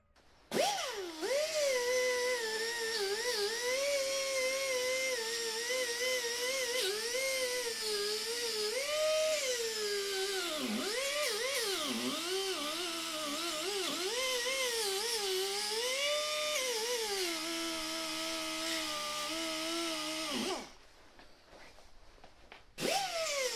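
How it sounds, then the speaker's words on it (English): A 50mm 3M 80-grit bristle disc spins on a rotary tool, cleaning the oil sump mating surface of a Peugeot 106 1.1 TU engine; a loud, steady high-pitched whine wavers in pitch under changing pressure for about twenty seconds, then stops. "I then use a 50mm 3M Rolex bristle disc to prepare the surface for the RTV sealant"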